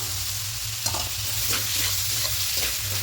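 Mushrooms being stirred and fried in a hot, spicy masala, a continuous close sizzle with repeated scraping stir strokes, and no voices.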